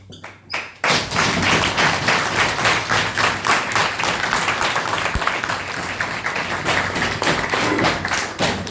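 Sustained applause from an audience at a speech, many hands clapping densely and loudly for several seconds after a brief pause.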